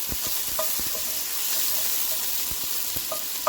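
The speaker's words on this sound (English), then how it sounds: "I don't use a lot of oil, right? Just to simmer my onions." Onions simmering in a little oil for a chicken curry, a constant crackling sizzle with light clicks and occasional stirring taps, close by.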